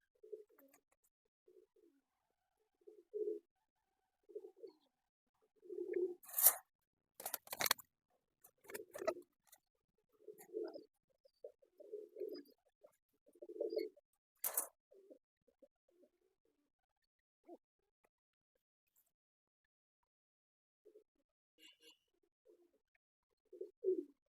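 Caged pigeons coo in soft, intermittent bursts close by, with brief sharp rustles and wing or scratching noises breaking in between the calls against a quiet background.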